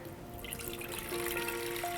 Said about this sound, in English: Here I am pouring 5 cups of water in a vessel.